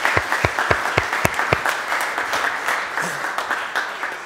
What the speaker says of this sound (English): I think we should give ourselves a round of applause and a round of applause for the presenters.